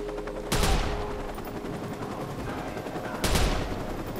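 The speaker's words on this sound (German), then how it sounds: "jetzt schießen die hier auf mich" Two sharp bursts of gunfire from the video game Watch Dogs, sniper-style shots spaced about three seconds apart, each with a short decaying tail over a steady background of game ambience.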